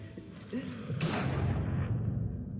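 A sniper rifle fires at dynamite in the video game Sniper Elite V2, a single sharp shot followed by a dull rumbling report, set under low game ambience and faint voices.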